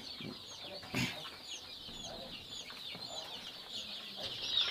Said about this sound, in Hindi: ये ब्लैक एस्ट्रोलॉप के चूजे हैं